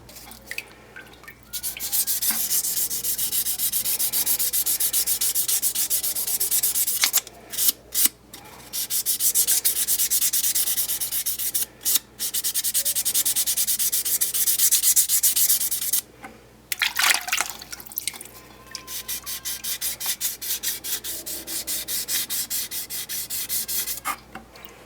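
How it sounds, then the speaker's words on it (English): Sheets of 2000 grit sandpaper scrub an acid-etched forged blade fitting by hand, giving long bursts of dense, steady rasping close up, broken by short pauses and quick strokes. "I'm going to go scrub this with some 2000 grit."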